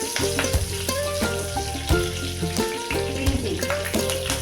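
Mustard seeds and curry leaves fry in hot coconut oil in a pan for Kerala crab curry: a close, constant sizzle with sharp pops and spatters, over soft background music.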